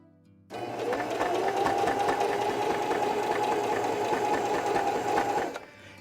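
A sewing machine stitches fabric around a curve in one continuous close, steady run of rapid needle clatter and motor whir, starting and stopping abruptly.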